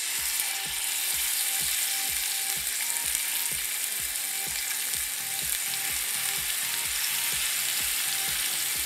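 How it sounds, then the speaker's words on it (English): Cajun-spiced swordfish pieces sizzling on a hot grill pan over medium-high heat, a constant close hiss with a fast, regular ticking crackle running all the way through. "And then we're going to put them straight onto a hot grill pan."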